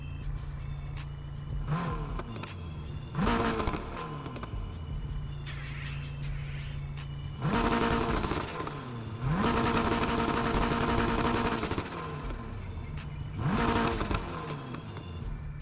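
BMW i8 Iron Man Edition in the racing game Need for Speed Heat, its engine idling steadily and then revving in several sharp rising bursts that fall back to a low hum, close and loud.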